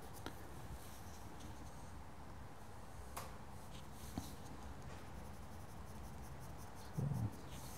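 Charcoal pencil drawing on paper for a figure rendering: soft, continuous scratchy strokes at close range, with a few sharper taps and a brief louder rub near the end, no talking.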